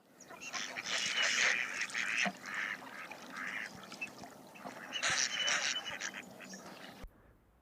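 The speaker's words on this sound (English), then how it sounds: "That was a mallard" Mallard ducks quacking in loud, close bursts of repeated raspy calls, several overlapping voices rising and falling before stopping abruptly.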